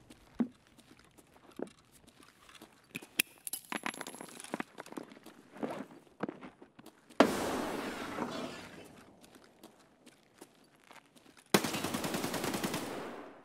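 Gunfire in Escape From Tarkov as rooms are pre-fired: scattered sharp shots and clattering impacts build toward two loud, dense bursts of sustained automatic fire, with no talking.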